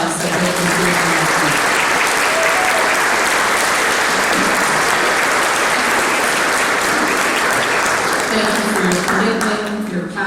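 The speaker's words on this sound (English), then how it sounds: "let's give them a round of applause" Long, loud round of applause from a large crowd at a donor and volunteer event honoring current and former board members, dense and sustained, with voices talking through it.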